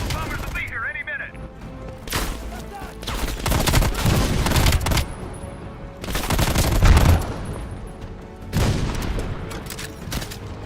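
Machine gun fire in a war video game, loud bursts of rapid gunfire in several waves with booming blasts, while a voice talks over the action.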